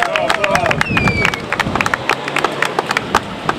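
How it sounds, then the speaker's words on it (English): An audience gives a round of applause for Jean-Claude Sanon at a gathering with African American and Hispanic leaders: loud, sharp, rhythmic hand claps close by, with crowd noise and a few whistle-like tones. "we need to give him a round of applause"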